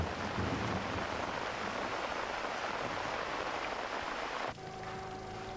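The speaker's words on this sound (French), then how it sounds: "La recette pour un orage équatorial au format fourmi, une bouteille d'eau minérale et une fibre optique de 5 cm." An ant-scale equatorial rainstorm, made with a mineral water bottle and a 5 cm optical fibre, hisses as a steady dense patter before cutting off abruptly into quieter background hum.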